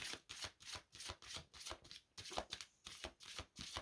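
Playing cards shuffled by hand for a card draw, a quick run of about a dozen crisp riffling flutters in a steady rhythm, close but quiet, with no talking.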